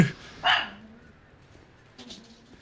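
A dog barks sharply once near the start, followed by a softer yip or second bark a moment later, close by with quiet background between.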